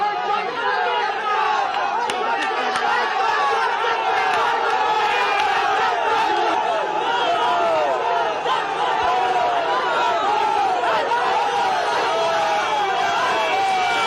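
A large crowd of villagers gathered at Sarberia, voices merging into dense, continuous shouting and chanting of slogans directed at Suvendu Adhikari, loud and sustained throughout with overlapping talk.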